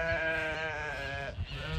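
Sheep bleat on a farm, a sustained, wavering call with strong harmonics, fairly close, followed by a brief second bleat near the end.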